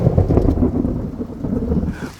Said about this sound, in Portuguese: Mano do céu, olha o tamanho da tempestade.